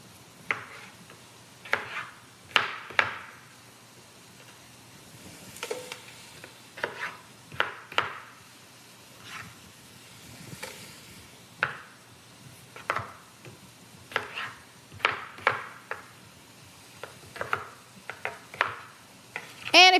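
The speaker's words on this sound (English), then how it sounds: "we're just gonna chop these up into pretty big chunks" Yukon Gold potatoes being chopped into big chunks on a cutting board, a series of sharp knife thunks in irregular bursts, close and clear with quiet pauses between.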